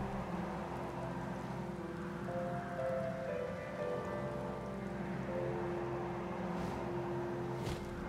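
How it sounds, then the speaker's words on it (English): Heavy rain pours steadily in a Final Fantasy XIV game world, a dense continuous wash of falling water with faint background game tones and no talking. "Damn, the weather really fucking picked up while we were inside. Jesus. Rain started pouring"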